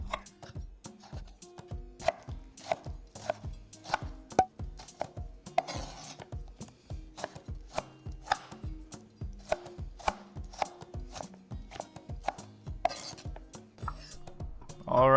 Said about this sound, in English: we're going to want to cube all 4 of them